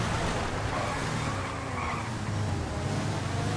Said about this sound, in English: Beautiful car, dancing it around the corners.